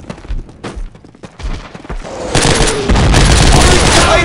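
Call of Duty Operation Market Garden combat: scattered single gunshots build into dense, continuous automatic fire from close by, loud and sustained.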